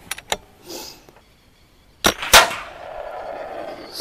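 A PCP Tiger air rifle fires a pellet at a metal target plate 52 metres off, a sharp snap followed by a louder crack and a lingering ring, after a few small clicks of handling.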